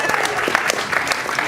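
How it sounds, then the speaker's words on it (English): Applause from a live audience at a Saturday night game-show style comedy event, dense and steady clapping filling the whole stretch without any talk over it. "Give him a round of applause"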